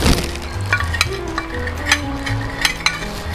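Water goes into a pan of sizzling stir-fried mixed vegetables with shrimp and pork, giving a steady fry crackle broken by sharp metallic clinks of a stirring utensil against the pan.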